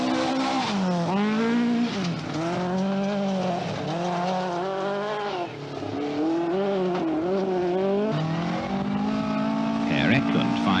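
A Tony Maslin Ford Escort rally car races on a British rally stage, its engine rising and falling through repeated revs and gear changes, with some tire noise, while a commentator talks over it.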